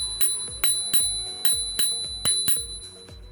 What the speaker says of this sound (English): The bell is a nice feature to have so you can warn any incoming traffic